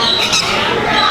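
Birds in an aviary at SeaQuest Las Vegas let out a loud, harsh squawk, close by, over a dense background din.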